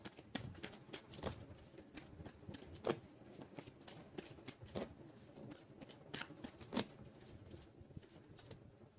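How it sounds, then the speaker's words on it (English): A deck of Moon Oracle cards is shuffled steadily, giving a continuous soft riffling patter with sharper snaps now and then, close by and fairly quiet. "So let's pull some cards from Moon Oracle deck for you"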